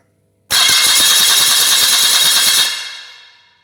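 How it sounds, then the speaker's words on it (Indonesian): Vehicle engine turned over by its starter motor during a starter system check: after a moment of silence, loud rapid cranking pulses run for about two seconds, then cut off and fade away. "Kita dengan starter, kita lihat hasilnya saat di start."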